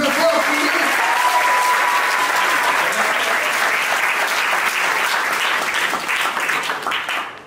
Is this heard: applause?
yes